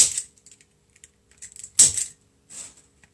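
Cutters snip through 21-inch deco mesh in a few crisp, isolated clicks spread over a few seconds, close and fairly quiet with no talking.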